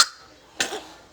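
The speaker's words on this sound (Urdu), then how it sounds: "بیٹے نے کھانس کے برا حال" A child coughs twice in quick succession while drinking milk, short, close and fairly soft, with quiet room tone between the coughs.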